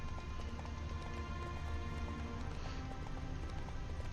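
A horse gallops in a video game, its hooves clip-clopping in a quick, steady rhythm under a continuous backdrop of game music and ambience, moderately quiet throughout.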